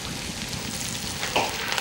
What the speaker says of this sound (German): Das Fleisch brät sie von allen Seiten kräftig an.